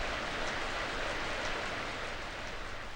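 Steady rain pours down on a town in the late afternoon, a dense and even hiss with a soft patter of drops that holds at the same level throughout, with no voices.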